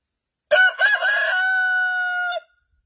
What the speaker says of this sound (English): Crow, rooster.